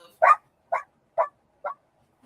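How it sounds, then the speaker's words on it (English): A pet dog named Dash barks four times, short and sharp at an even pace, close by in an otherwise quiet room. "No, it's just my doggy"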